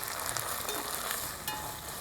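Gongura chicken masala with ginger and coconut masala is stirred in a hot frying pan, a steady close sizzle broken by quick scraping strokes of the spoon, with no voices.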